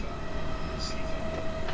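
Steady rumble of a train running in the video game Train Sim World 5, with a malfunctioning power car pushing from behind; continuous low drone with a faint tonal whine and small clicks, no speech over it.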